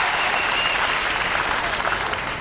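An arena crowd at a women's bowling tournament applauds loudly and continuously, a dense wash of clapping heard close for the whole stretch.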